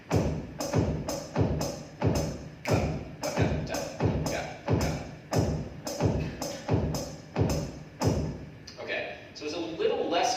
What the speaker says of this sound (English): is a 5 against 4 polyrhythm, which sounds like this